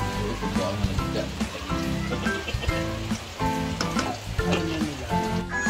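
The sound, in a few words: tilapia fish frying in oil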